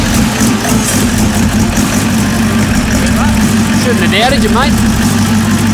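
A turbocharged engine, the Frankenmule with a new turbo setup and billet plenum, idles loudly and steadily with a deep rumble up close, while someone speaks over it and faint chirps or squeaks come through midway.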